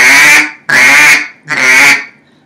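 Three loud, close, drawn-out quacks from a hand-held duck hunting call, each long nasal blast separated by a short pause.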